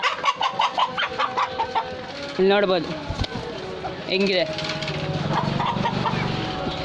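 Fighter hens cluck and call in short repeated bursts, with a couple of longer squawks standing out, as someone speaks nearby.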